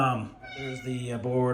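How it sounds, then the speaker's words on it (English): A noisy domestic cat meows in the background in several drawn-out, wavering cries while someone talks over it. "that's my cat in the background"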